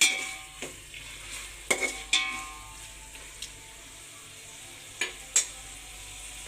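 Vegetables for veg biryani with tomato sizzle in a pan while a utensil stirs them, producing soft frying hiss punctuated by several sharp scraping clinks against the metal, close and unaccompanied by speech.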